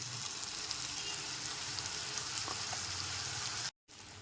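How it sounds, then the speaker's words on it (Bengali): Spice paste of cumin, turmeric and Kashmiri chilli powder sautés with softened tomato and onion in a pan over low to medium flame, giving a steady close hiss and sizzle that runs alone, cut by a brief silent gap near the end. "4 থেকে 5 মিনিট ধরে মশলাটা এখানে খুব ভালো করে লো টু মিডিয়াম ফ্লেমে কষিয়ে নিতে হবে"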